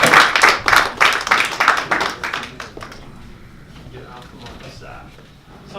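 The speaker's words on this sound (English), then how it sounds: "Give them all a round of applause" A conference audience at an economic forum claps in a burst of applause that starts strong and fades after a few seconds, while a voice over a PA system begins to speak.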